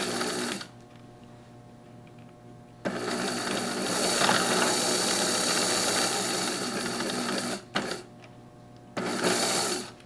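A sewing machine backstitching a stuffed bear's seam up toward the neck edge runs in loud, steady bursts, broken by short pauses, with a final burst at the end.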